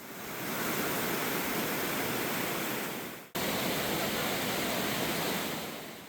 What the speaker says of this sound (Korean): 구룡폭포는 1시간 반의 산행의 노고를 칭찬하듯 시원하게 물줄기를 뿜어냅니다